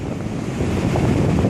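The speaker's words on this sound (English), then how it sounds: "this is at the beach." Ocean waves roll onto a beach, a loud, continuous rushing surf mixed with heavy wind buffeting the microphone, building slightly toward the end.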